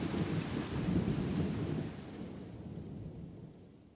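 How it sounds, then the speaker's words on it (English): Thunder rumbles with heavy rain falling over rooftops and a yard at night, a loud rolling grumble in the first two seconds easing into steady downpour. "the rain increases in intensity and a grumble of approaching thunder rolls across the moonshiny rooftops before echoing around the yard"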